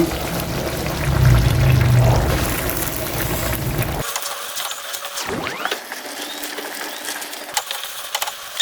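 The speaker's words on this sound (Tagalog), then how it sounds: "Lagay natin yung ating kangkong" Rustling and clattering of water spinach dropped into a boiling pot of pinakbet, followed by a quieter stretch with faint bubbling and a few soft knocks.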